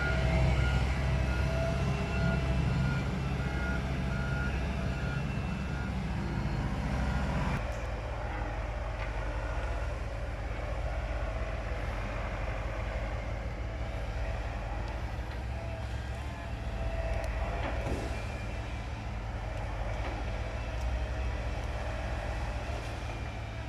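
A Komatsu PC130-10 excavator clearing a rubber tree plantation, its diesel engine droning steadily at a distance with a heavy low rumble, a brief shift in load partway through and faint creaks and knocks of timber; no talking.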